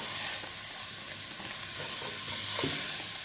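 Onion fries in a pot for Moroccan chicken pastilla, a dense, even sizzle with a faint stirring rustle underneath.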